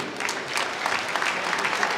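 Audience applause at a ceremony, a brief burst of dense, even clapping heard from a moderate distance with no speech on top.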